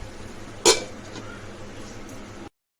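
A metal lid lifted from a cooking pan while making stuffed brinjal masala (bharli vangi), a single sharp clink near the start, with faint kitchen noise and a low hum after.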